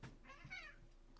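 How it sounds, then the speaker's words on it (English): A cat gives a single short, quiet meow, close by and alone. "And Pumpkin just went after the other cat"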